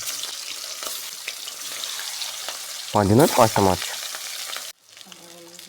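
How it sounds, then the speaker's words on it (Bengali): Rohu fish pieces sizzle and crackle in very hot oil in a pan, a steady close hiss while someone talks briefly partway through, before the sound cuts to quieter background. "এখানে কড়া গরম হয়ে গেছে, তেলটাকে আমি চারদিকে নেড়ে দেবো, দিয়ে এই মাছগুলো সব এর মধ্যে দিয়ে দেবো।"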